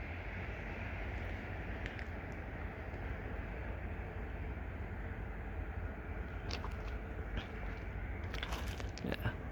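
A work train led by a rebuilt SD70MAC diesel locomotive rolls through the Woodbine level crossing, giving a steady, close rumble with a few sharp metallic clanks and squeals near the end.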